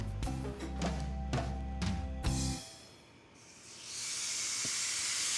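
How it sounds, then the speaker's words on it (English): Carne asada meat laid on a hot grill, starting with a few thumps and clatters, then settling into a steady, fairly loud broadband hiss of sizzling that holds to the end. "So now we're gonna grill the meat."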